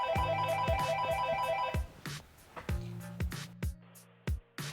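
A telephone rings with a repeating electronic ringtone of bright, stacked melodic tones and steady pulses, close and fairly loud. It pauses briefly and comes back, with no one speaking over it.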